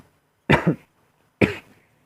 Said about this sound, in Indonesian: maaf agak sedikit batuk